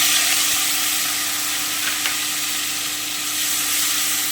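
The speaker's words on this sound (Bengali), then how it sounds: "আমি হালকা করে একটু ভেজে নিচ্ছি" Kotti fish frying gently in a pan with tomato paste, giving a steady soft sizzle throughout with a faint clink near the middle and no talking.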